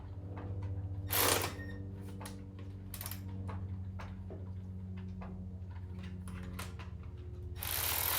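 A ratchet tightens nuts on the deck bolts of a Scag SWZT mower with a 48-inch deck: short bursts of ratcheting clicks at close range over a steady low hum, with a louder burst near the end.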